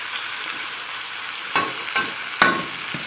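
Cornmeal-crusted pork chops sizzle steadily in a frying pan, with a few sharp scraping stirs and clinks of a utensil over the constant frying hiss.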